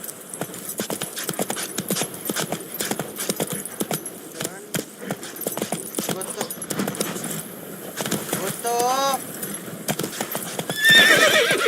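Horse hooves clip-clopping at a gallop in the video game The Witcher 3, with a neigh partway through, rhythmic and close over game ambience and a talking voice.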